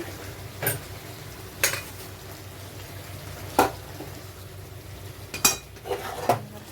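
A spoon stirs a curry of pumpkin, potato, pointed gourd and drumstick stems in a pan, giving five or six separate metallic scrapes and clinks a second or so apart over a quiet, low simmer.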